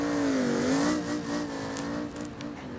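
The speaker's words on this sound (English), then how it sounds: "this truck feels so good to drive" A pickup truck engine in BeamNG Drive revs and pulls steadily, its rising and falling tone close and loud throughout, with no talk over it.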